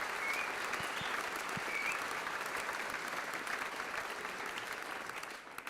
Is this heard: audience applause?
yes